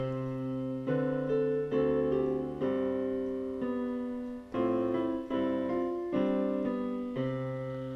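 Piano notes played an octave apart, struck one after another in an even, unhurried rhythm, each ringing briefly before the next.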